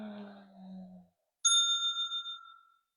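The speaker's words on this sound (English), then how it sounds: "just allowing the bell to completely ring" A singing bowl struck once after a brief hum of voice, ringing with a clear metallic tone that wavers and fades over roughly a second and a half, close and otherwise quiet.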